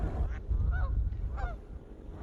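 Wild geese in a Seattle park give two honks about half a second apart, moderately close over a rumbling, windy outdoor background.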